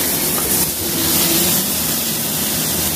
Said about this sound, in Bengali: এবারে বড় বড় করে কেটে রাখা আলুগুলো ভেজে রাখা হচ্ছে।